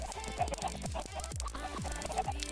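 Minecraft chickens cluck in a crowded pen, a steady run of short repeated clucks and squawks at moderate loudness with no talking over them.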